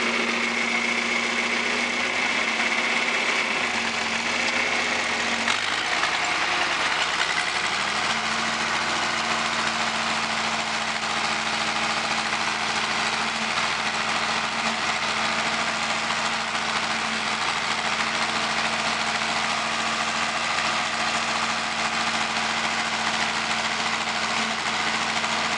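A tractor in fourth gear pulls a chisel plow through hard ground, its engine droning steadily and loudly from close by, with a shift in load early on before settling into a constant, heavy labouring hum with no talk.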